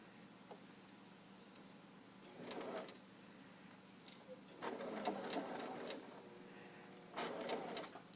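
A sewing machine runs a standard straight stitch in short bursts of motor whirring separated by pauses, faint and close, with light clicks between runs.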